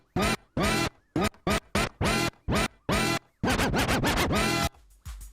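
Turntable scratches from a 1984 track, a run of sharp, rhythmic scratch bursts separated by short gaps, speeding into a dense flurry near the end, loud and close.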